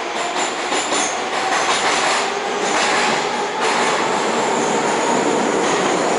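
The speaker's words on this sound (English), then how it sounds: "I'm about to get on the subway and head into the depths of the Moscow" A Moscow subway train roars loudly and continuously up close, with rumbling wheels, rattling carriages and hissing, squealing rail noise.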